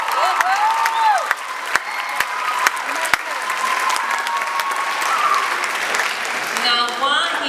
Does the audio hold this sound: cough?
no